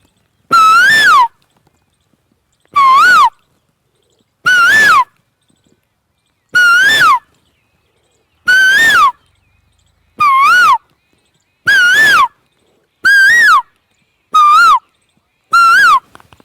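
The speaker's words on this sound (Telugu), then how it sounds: "కోయిల యొక్క ధ్వనిని మీరు ఇప్పుడు ఆస్వాదించబోతున్నారు" An Asian koel's loud call repeats ten times at a steady pace, each a clear, wavering whistled note separated by silence.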